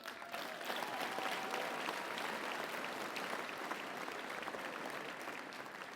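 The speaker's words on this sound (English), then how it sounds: "So give you a round of applause." Steady audience applause fills the room at a live motivational talk, a dense, even wash of clapping that holds for about six seconds with no pause.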